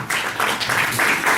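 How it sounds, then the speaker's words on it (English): Audience applause at a magazine release party, a short, dense burst of clapping from a small crowd filling the room at steady loudness. "Another round of applause for Rebecca."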